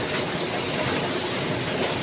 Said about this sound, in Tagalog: Kaya panay ulan.